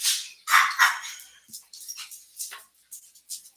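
Several puppies yip and bark in short high-pitched bursts, loud and close at first, then fainter and scattered.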